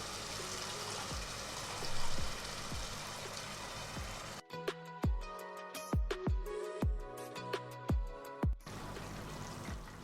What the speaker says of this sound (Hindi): अब हम इसके अंदर 1 गिलास पानी डाल देंगे।